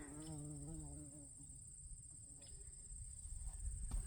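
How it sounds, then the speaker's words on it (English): A bee buzzes among late-summer garden flowers in mid September, a faint, steady hum heard close by in a quiet outdoor setting. "There's a bee."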